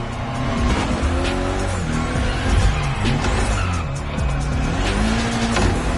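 Mitsubishi Lancer Evo 6 drifting around an airport in a racing game, engine howling and shifting pitch while tires squeal in long skids, loud and close with no voices.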